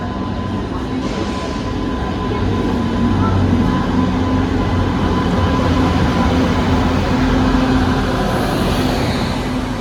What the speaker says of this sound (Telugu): ట్రైన్ అయితే ఇప్పుడే వచ్చేసింది మామ.